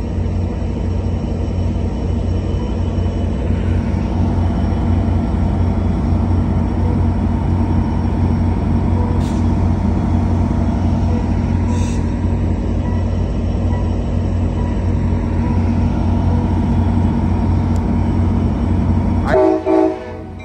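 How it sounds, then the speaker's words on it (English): Amtrak Capital Corridor train 531, led by an F-59PHI locomotive, arrives at Emeryville station with a loud, continuous low engine rumble and rolling wheel noise, brief horn blasts sounding near the end. "it's an Amtrak 531 Capital Corridor train"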